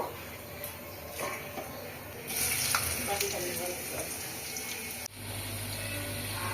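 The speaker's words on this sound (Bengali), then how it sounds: "আলুটা এখানে ভেজে নেব" Boiled potatoes fry in a pan for Kolkata-style ghugni, a steady close sizzle with occasional utensil scrapes, growing louder midway and then shifting into a lower, heavier hiss near the end.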